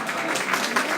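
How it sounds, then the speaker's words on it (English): Brief burst of audience applause at a NYC policy town hall membership meeting, a dense wash of clapping from a crowd filling the room. "And you can applaud for that,"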